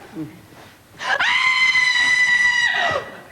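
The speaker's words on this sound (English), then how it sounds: "Oh, my God, what was that? That was you screaming." A person lets out a loud, sustained high-pitched scream lasting about two seconds, rising sharply and then cutting off, after a brief faint sound at the start.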